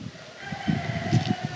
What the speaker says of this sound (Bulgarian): Чува се кокомявка.